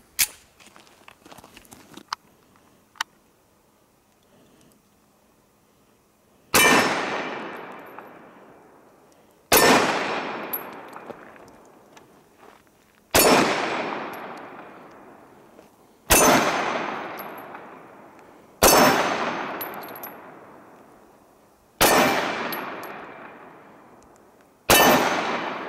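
A Colt 1911 .45 ACP pistol, Series 80, fires a magazine at the range: seven loud, sharp shots spaced a few seconds apart, each with a ringing decay, after quiet handling noises.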